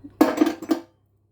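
A spoon stirs a glue mixture in a container, making three quick, close clinks and scrapes against the sides before it falls quiet.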